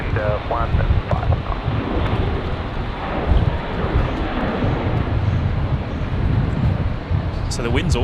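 Strong 15-knot crosswind at Brisbane Airport roars steadily into the microphone as loud, continuous buffeting, with a faint aircraft drone beneath and brief talk near the start and end.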